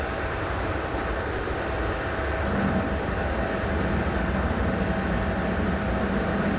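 Steady low rumble of train carriages rolling along the track in Train Sim World 2022, an eight-carriage train heard as a continuous, even drone with no talk.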